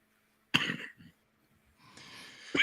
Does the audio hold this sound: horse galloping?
no